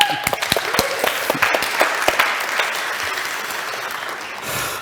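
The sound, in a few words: conference audience applause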